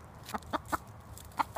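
A farm chicken clucks in short bursts near a hay-strewn garden, five or six brief clucks spaced irregularly, moderately close and alone with no talk.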